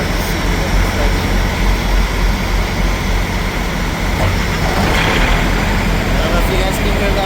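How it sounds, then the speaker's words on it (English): A Thermo King refrigeration unit's diesel engine on a 53-foot trailer runs with a loud, steady drone, low rumble and broadband roar, continuously without letting up. "If you guys can hear that, but the engine started. It's getting loud now."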